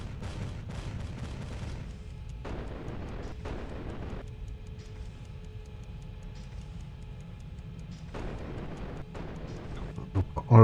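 Guns firing in the naval video game Capital Command: scattered heavy shots and short volleys over a low rumbling background, with a sharp burst at the end.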